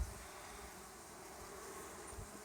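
Honey bees swarm around a hive among clover and canola in July, a continuous close buzzing hum with no voices.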